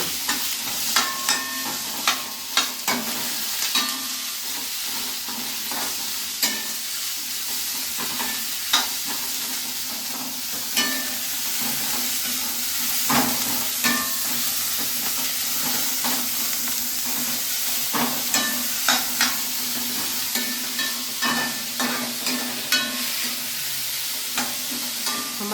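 Food frying in hot oil, with a continuous sizzle and repeated scraping clicks of stirring at irregular intervals.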